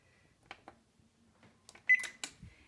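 Oven keypad beeps as the preheat is set to 375 degrees, a few soft button taps and then a short bright electronic tone, close and quiet in a kitchen.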